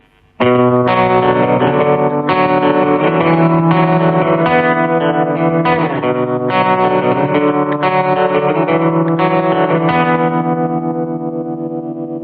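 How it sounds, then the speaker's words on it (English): An electric guitar strums repeated chords through a Vox VX15GT amp with a pulsing tremolo effect that makes the volume throb steadily, ringing out at the end. "And the tremolo, with that strange boosting effect that it has on the overall sound."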